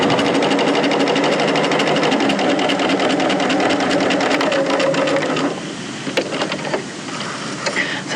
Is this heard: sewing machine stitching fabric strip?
yes